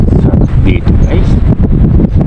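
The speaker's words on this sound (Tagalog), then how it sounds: "Malakas ang hangin, presko." Strong wind buffets the microphone outdoors with loud, uneven gusting roar and rumble, while people talk in the background.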